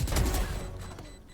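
A loud, booming burst with a rapid crackle of shots, fading over about a second, from Valorant game action.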